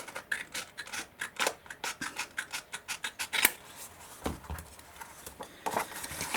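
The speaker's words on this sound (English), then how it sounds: "so let's chop that off. I'm going to do it with my scissors here" Scissors snipping through the tab of a C6 paper envelope, a quick run of crisp, close cuts in a steady rhythm, with fainter rustling of paper near the end.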